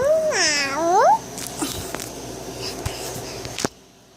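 A child imitates a cat with a drawn-out, rising and falling meow near the start, then lighter room noise and faint rustles follow.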